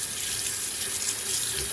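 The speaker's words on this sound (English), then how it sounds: "Be sure to thoroughly wash your hands throughout the whole process." Tap water runs steadily into a sink as hands are washed during home cooking of chicken and dumplings with vegetables, a continuous close hiss and splash with no talk.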